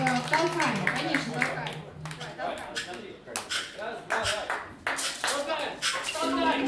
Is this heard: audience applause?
yes